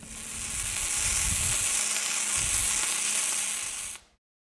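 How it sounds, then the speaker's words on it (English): Flux-cored arc welding with the gun dragged backhand across a flat butt joint gives a steady, loud crackling sizzle that holds for about four seconds and then cuts off abruptly into silence. "Instead of pushing the gun forward, what you'll need to do is drag the gun or backhand weld, similar to stick welding."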